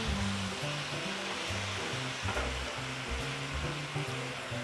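A steak searing in a heavy-based pan just after being flipped, giving a steady, close, broadband sizzle that runs unbroken throughout, with low background rumble beneath and no talking.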